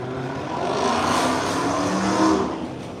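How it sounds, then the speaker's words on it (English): Cars passing loudly on Colonial road in Lehigh Acres, a close roaring pass that swells and fades over a few seconds, with no talk. "Some of the cars passing on Colonial a little bit loud"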